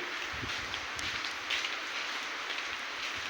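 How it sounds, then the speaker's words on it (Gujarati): Steady rain falling outdoors during the first monsoon shower in a farming area, a soft continuous hiss at moderate distance with no talk and no distinct drops. "જો આ વરસાદ ચાલુ છે"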